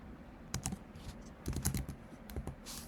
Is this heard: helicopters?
no